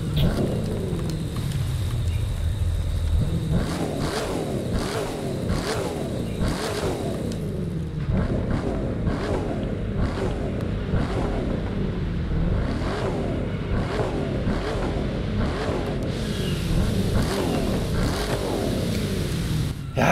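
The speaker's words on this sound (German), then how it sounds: "Hört sich so richtig Renn V8 an" A Mercedes C63 AMG Black Series V8 in The Crew 2 revs and accelerates repeatedly, its racing engine note rising and dropping through quick gear changes in a loud, continuous run.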